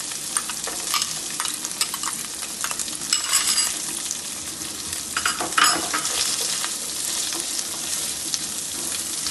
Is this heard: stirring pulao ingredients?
yes